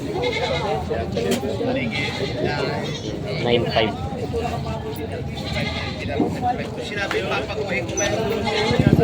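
Goats offered for sale at a farm bleat repeatedly at a moderate distance, mixed into a busy outdoor scene with someone talking almost continuously over them.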